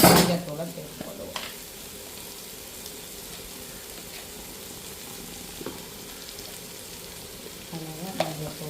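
Ginger garlic paste with turmeric sautéing in a pan, a steady soft sizzle with occasional scraping stirs, a louder burst at the start and a voice speaking briefly near the end.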